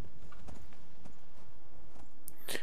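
A horse's hooves clip-clop at a steady walking pace in the video game Skyrim, close and fairly clear, with a brief sharp sound near the end.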